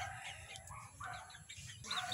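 Chickens on a backyard farm cluck softly and intermittently, with a sharper call near the end, amid light ambient noise.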